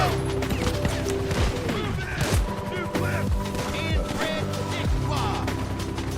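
Shotgun and other gunfire in the online mode of the video game GTA V, with bursts of shots scattered through a dense, busy game soundscape of crashes and effects, some voices mixed in.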